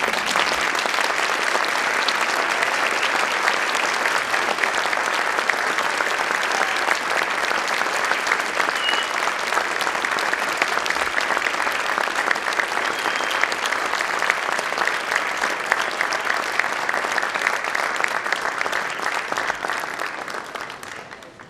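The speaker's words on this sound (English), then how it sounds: "You may now applaud." Steady, sustained applause from a large crowd at an honor society induction ceremony, continuous for about twenty seconds before tapering off slightly at the end.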